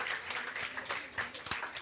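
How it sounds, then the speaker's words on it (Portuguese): Church congregation applauding during a sermon, a brief, fairly faint burst of scattered clapping with some voices mixed in. "Pode dar um aplauso ao Senhor por isso?"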